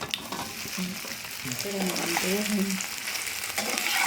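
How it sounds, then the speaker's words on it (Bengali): Soybean chunks fry in mustard oil in a pan, a steady close sizzle with occasional stirring scrapes and brief tonal clinks, growing slightly louder toward the end. "এখন আমি সয়াবিনগুলো ভেজে নিচ্ছি।"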